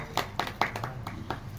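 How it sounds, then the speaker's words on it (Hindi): A small audience claps loosely for a moment at a religious gathering, a handful of scattered, uneven claps rather than sustained applause. "तालियां बजा दो भाई।"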